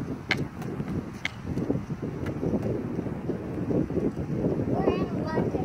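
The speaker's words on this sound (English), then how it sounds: "It got kind of windy out here." Blustery wind rumbles and buffets the microphone throughout at an outdoor skating spot, a steady low roar with gusts, while a person talks faintly underneath.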